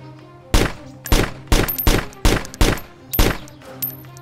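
Gunfire in the DayZ video game: six sharp, loud shots spaced roughly half a second apart, each with a short ringing tail, against a quiet background with no talk.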